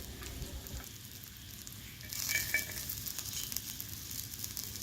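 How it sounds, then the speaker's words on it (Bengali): Thankuni leaves fry in a little hot oil in a wok, giving a steady soft sizzle that grows louder and crackles more in the second half, with no talking. "যে কোনো তেল গরম করে তার উপরে এই থানকুনি পাতাটা একটুখানি তেলে নিতে হবে"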